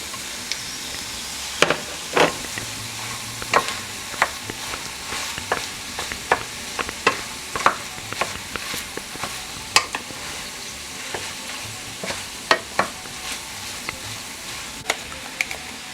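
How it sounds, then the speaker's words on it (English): Shrimp frying in butter in a pan for a Cajun shrimp dish: a soft, steady sizzle with frequent sharp clinks and scrapes from stirring, all fairly close and with no talking. "And now I'm going to add in my shrimp."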